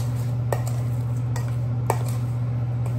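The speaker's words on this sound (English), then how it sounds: "Now we're gonna give it a little mix." Spoon stirring Alfredo sauce in a pan, a few light metallic clinks and soft scrapes spaced apart over a steady low kitchen hum.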